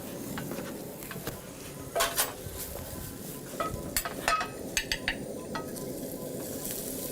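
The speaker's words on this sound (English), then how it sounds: "You can hear the sizzling." Steady crackling sizzle of onions frying in hot oil, with a few sharp clinks and scrapes of a utensil stirring in the pan.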